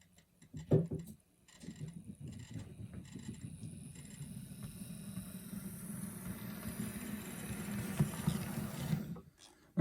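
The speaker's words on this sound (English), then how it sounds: "very quiet, just a little bit of motor hum there" Quiet, steady motor hum from a ScaleTrains HO scale ES44AH diesel locomotive model running on DCC power without sound, with faint wheel and rail rumble building slightly over the run, heard alone and close.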